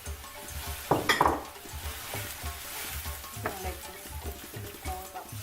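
Onion and garlic frying over medium heat in a pan for vegan Nigerian jollof rice, a steady close sizzle broken by a few scraping stirs of a utensil against the pan.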